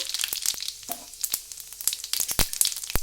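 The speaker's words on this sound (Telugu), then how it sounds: "నేనైతే ఆయిల్ వేసుకున్నాను, వేడెక్కింది, ఆవాలు వేసుకున్నానండి. ఇదిగోండి జీలకర్ర వేసుకుంటున్నాను" Cumin seeds crackle and sizzle in hot oil that already holds mustard seeds, giving a close, steady frying hiss broken by sharp pops and brief spits over about three seconds, with no talking.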